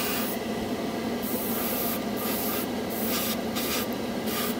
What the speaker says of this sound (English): This is literally the first time I put paint and shot through this airbrush